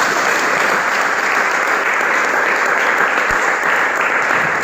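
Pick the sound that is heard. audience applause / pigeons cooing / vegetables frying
audience applause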